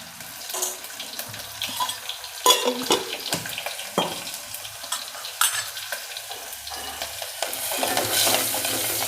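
Garlic, chillies and a pinch of hing hiss and crackle as they hit hot oil in a home kitchen, with irregular spitting bursts and stirring clatter, fairly close and with no talking.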